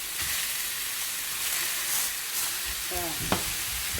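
Beef mince sizzles and fries in a hot pan, a loud steady crackling hiss with brief scraping stirs near the end, no talking.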